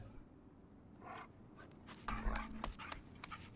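A dog in the horror video game Until Dawn pants in short, quick, breathy bursts, close and fairly quiet, with some faint rustling and no clear talk.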